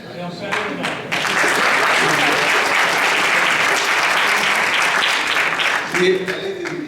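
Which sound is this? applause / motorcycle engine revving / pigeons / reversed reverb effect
applause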